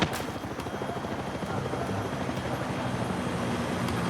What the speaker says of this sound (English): there's also a helicopter up there